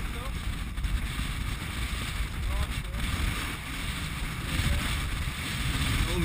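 A sailboat heads out of a harbour under sail at Perth, with steady broadband wind and water rush and faint boat noise running throughout, while people talk over it.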